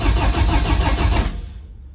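BMW E30 rally car engine cranking and catching, a loud close burst of engine noise that fades out abruptly after about a second and a half.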